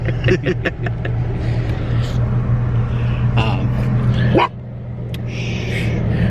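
A pet dog riding in a car on a coffee run barks a few quick times near the start, close by, over steady engine hum while people talk.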